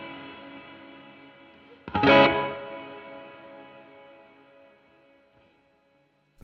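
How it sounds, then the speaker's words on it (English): Guitar sound through a Chase Bliss Lossy pedal with reverb, where a sustained tone is followed by a swelling burst of washy reverb that arrives late, then decays slowly to silence. "kind of like the pre-delay before the majority of the verb comes in, but it's not quite like a pre-delay"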